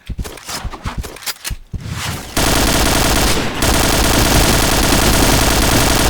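Gunfire in the online shooter Point Blank, sharp separated shots at first, then a dense, loud continuous burst of automatic fire that runs to the end.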